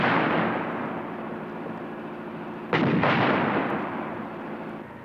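An M109 self-propelled howitzer fires a single heavy boom midway through, a sharp loud blast with a rolling tail, set against a steady background rumble; no speech.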